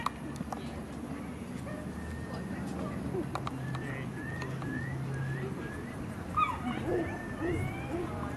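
Afghan Hound puppy at a specialty dog show gives a few faint whimpers and yips near the end, under a commentator's voice and steady crowd murmur.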